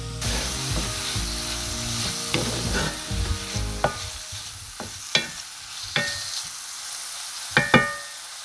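Beef sizzling and frying in a pan for stroganoff, a steady crackling hiss with stirring clatter and several sharp scrapes and taps of a utensil against the pan, close and fairly loud, no talk.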